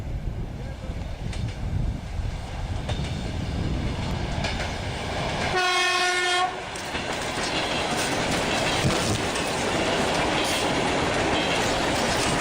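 A Mumbai commuter train rumbles steadily close by, with one loud, sustained horn blast of about a second partway through, then continued rolling noise.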